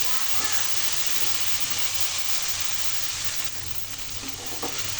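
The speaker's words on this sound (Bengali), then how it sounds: "আর তাপ কমিয়ে অল্প হিটে এখন অনবরত নাড়তে থাকবো সফট হয়ে আসা পর্যন্ত ভেন্ডিগুলো" Okra frying over low heat in a pan with shrimp, stirred constantly: a steady, close sizzle and hiss with soft spatula scrapes running throughout.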